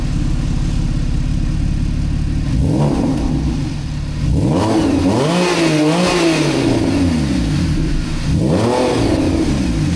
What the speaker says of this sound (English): This is how a 911, all 911 should sound.